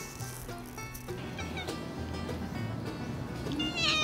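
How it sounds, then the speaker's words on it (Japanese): Several friendly street cats in Okinawa meow close by, with repeated short calls over a steady background hiss of outdoor ambience. "いっぱい猫いますね。"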